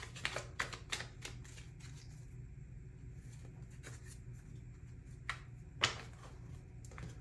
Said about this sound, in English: Now we're going to pull some tarot cards.